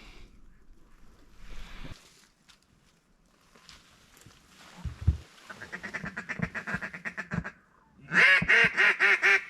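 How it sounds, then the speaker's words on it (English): A lost duck quacks in a rapid run of loud, raspy calls near the end, preceded by scattered quieter quacks, footsteps and rustling at a duck hunting camp. "Titus, we found a lost duck"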